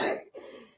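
A man coughs once, a short harsh burst followed after a brief gap by a softer, lingering throaty tail, close and fairly quiet.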